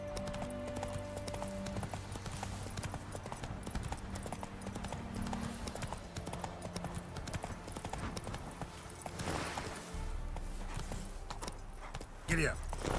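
Geralt's horse Roach trots through the world of the video game The Witcher 3, its hooves clip-clopping steadily and close over a dense game ambience, with a brief snort near the end.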